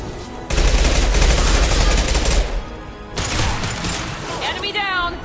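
Gunfire in the sci-fi shooter Mass Effect 2, a loud, rapid burst of weapon fire lasting about two seconds, followed by mechanical clatter and more shots with a voice speaking briefly.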